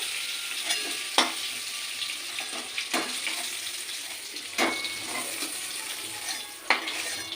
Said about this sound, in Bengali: সবজিগুলো আমি ভেজে তুলে দেবো সব ভাজা হয়ে গেছে একটু ভেজে তুলে নেব সবজিগুলো